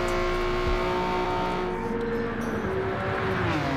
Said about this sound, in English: The little Yaris sounds angry too.